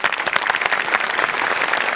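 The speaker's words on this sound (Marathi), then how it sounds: "क्या बात, जोरदार टाळ्या." Audience applause at a Marathi comedy show, a dense, steady clatter of clapping that fills the whole stretch loudly and evenly, with no voices rising above it.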